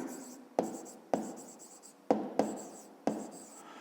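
Pen or chalk writing out a math solution, five crisp strokes each starting with a sharp tap and trailing into a short scratchy drag, close and alone.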